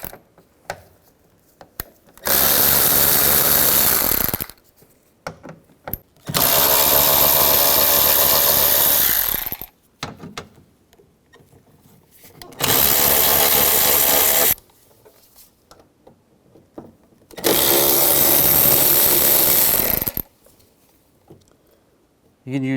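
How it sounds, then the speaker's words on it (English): Power tool backing out T30 screws from the underside and edges of a 2006-2010 Volkswagen Jetta driver's door, in four loud sustained whirring bursts of a few seconds each, separated by quieter gaps. "They're a T30, so use a T30 socket. You're going to take all those screws out from underneath and both sides."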